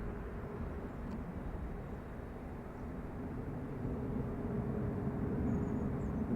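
A Delta Boeing 767-300 with large winglets departs Dublin Airport, its jet engine roar distant and low at first, then slowly building louder across the clip, with no talking.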